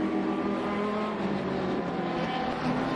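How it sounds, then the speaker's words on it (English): Onboard a BMW race car at Sonoma Raceway during a race, with a steady, fairly distant engine drone and road roar running continuously and no voices. "We hop on board as well up and over the hill with another one of our"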